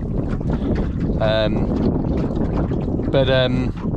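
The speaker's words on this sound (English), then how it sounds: "Oh, here we go. We've got a gust." A gust of wind sweeps over a sailboat on a busy lake, roaring steadily against the microphone with water wash beneath, while voices briefly speak twice.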